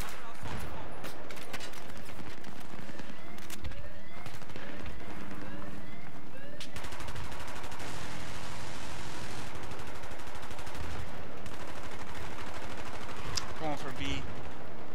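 M416 rifle fire in a video game, bursts of rapid shots over dense game noise and footsteps, with players talking throughout.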